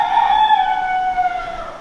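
Hens inside a dry coop on an Eastern Kentucky homestead after a storm, one steady bird call lasting throughout, close and fairly loud against a quiet background.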